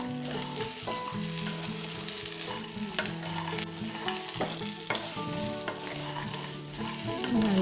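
Okra (ladies finger) sautés in a pan, a steady close sizzle with frequent clinking and scraping stirs of the utensil against the pan, moderately loud and continuous.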